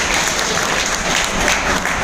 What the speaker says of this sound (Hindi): भाई के लिए जोरदार तालियां